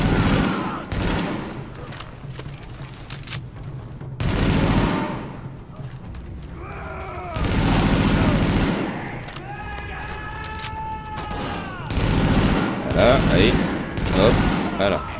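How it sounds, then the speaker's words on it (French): Gunfire from the video game The Division, with repeated fusillades of shots in loud bursts, game voices and radio-style dialogue weaving between the volleys, and a person talking over parts of it. "escorte essuie des tirs en provenance du toit"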